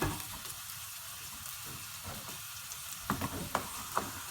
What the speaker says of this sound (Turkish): iki tane soğanı yemeklik doğruyoruz. Yağda kavuruyoruz.